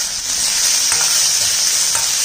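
Loud steady sizzling of chopped onions and bell pepper frying in a pan, with a few soft scraping strokes of a spoon stirring through them, no talking.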